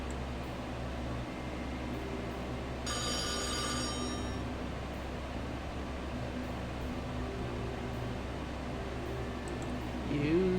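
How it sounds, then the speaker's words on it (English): A telephone in the DOS video game The Dark Half rings once in a brief, bright electronic burst lasting about a second and a half, over a steady low hum. "Ring, ring. That's the telephone."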